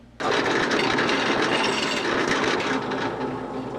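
A power drill whines loudly and steadily after a short start, boring continuously into concrete with a harsh, buzzing roar.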